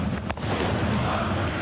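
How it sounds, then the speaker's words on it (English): Fireworks go off outside a football stadium during a Brøndby IF versus FC Copenhagen Danish Superliga match, a couple of sharp booming blasts followed by a dense rumbling crackle, with no talk. "Fireworks going off, I think, yet again."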